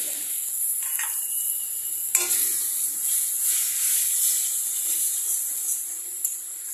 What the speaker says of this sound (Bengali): এবার এটা আমি এখানে পেঁয়াজ তেলে এখানে দিয়ে দিলাম